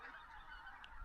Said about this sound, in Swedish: Hörs som gäss.